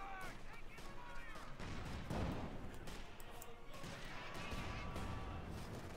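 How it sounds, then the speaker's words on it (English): Bazooka rockets launching in a Company of Heroes 2 match between Wehrmacht and US Forces, with bursts of gunfire and explosions mixing into a dense, busy battle soundscape under a commentator's voice. "Bazooka rockets flying away there."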